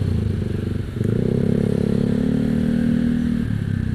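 Yamaha Freego 125 scooter accelerating at night, its engine rising to a steady, moderately strong drone with a brief dip near the end, recorded close with no talk.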